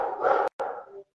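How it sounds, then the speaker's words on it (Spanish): A dog barks twice in quick succession, a longer bark followed by a shorter one, moderately loud and somewhat distant. "los ladridos porque obviamente sé qué significan."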